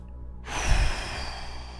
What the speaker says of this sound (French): parce qu'en fait c'est des respirations profondes